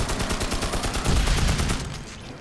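Rapid gunfire from the video game Magicka, a dense continuous fusillade of shots rattling steadily for the whole stretch with no talk over it.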